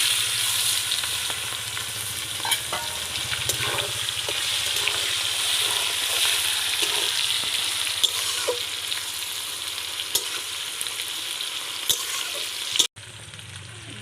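Onion frying in hot oil with bay leaves, cardamom, cloves, cinnamon and dried red chillies for a desi chicken curry, a steady loud sizzle with occasional stirring clicks, ending abruptly.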